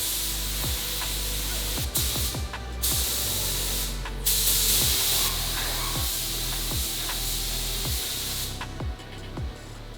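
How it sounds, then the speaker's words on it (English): A spray gun applies epoxy primer in the engine bay of a MKIV Toyota Supra, hissing steadily in close bursts, with intermittent clicks and knocks from handling and short pauses between passes. "start spraying some epoxy primer over everything."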